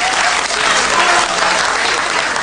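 Audience applause at a comedy show fills the space, dense and steady throughout, loud and sustained with no break.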